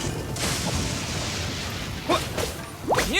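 A Lightning slash attack effect in the Genshin Impact video game, a loud sustained whooshing crackle with sharp, zapping bursts and impact hits near the end.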